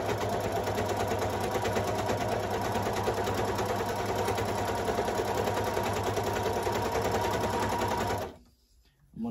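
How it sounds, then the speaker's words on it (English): Sewing machine stitching a waistband through Wayliner rollers, a fast steady whirring rattle running loud and continuous for about eight seconds before stopping abruptly, with a brief faint noise after. "So I'm just going to start sewing. And as I sew, it's going to evenly feed through."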